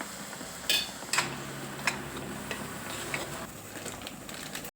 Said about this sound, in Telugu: శనగ అనేది బాగా ఫ్రై అయితే టేస్ట్ బాగుంటుంది